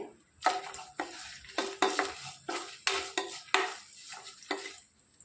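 Dried red chilies frying in a pan with cumin, stirred with a utensil in repeated scraping strokes, each stroke over a soft, close sizzle, with no talking.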